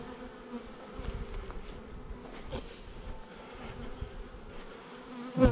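Honey bees being installed in a new hive drone in a steady, dense buzz close by, with a few louder swells and a sharp knock at the end.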